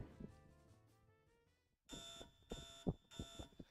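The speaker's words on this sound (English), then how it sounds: "There was an alarm planted on it." A door alarm goes off in the horror adventure game Death Mark, sounding as repeated loud electronic beeping bursts after a quiet stretch of game music, with no talk.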